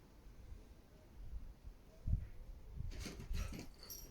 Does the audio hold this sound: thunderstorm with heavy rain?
no